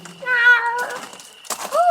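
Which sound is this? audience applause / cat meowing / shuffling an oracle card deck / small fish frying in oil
cat meowing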